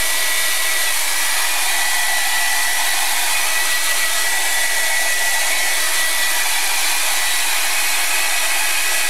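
Hair dryer blowing on an art journal page, a loud steady whooshing roar that holds constant and close throughout without pause.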